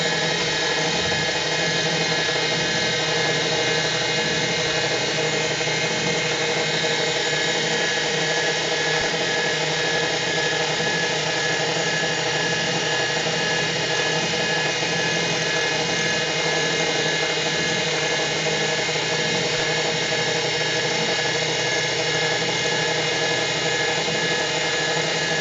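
A Mitsubishi/Imco CNC milling machine runs steadily at close range, a loud continuous mechanical whine and hum with a faint pulsing underneath, and no talking.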